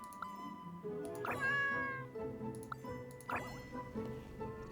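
A cat in Genshin Impact gives two meows, each a drawn-out rising and falling cry, clear and near, over a soft background of game music and small drips, with no talking.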